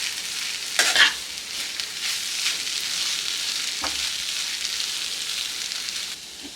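Maggi noodles are stirred in a hot pan for egg Maggi, a steady sizzle with a few sharper scraping strokes of the spatula near the start and middle. The sizzle fades slightly at the end, and there is no speech.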